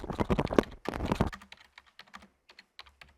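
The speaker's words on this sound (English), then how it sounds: "Typing in the prompt box." Quick bursts of close, loud typing on a computer keyboard while a prompt is entered, followed by lighter, scattered keystrokes.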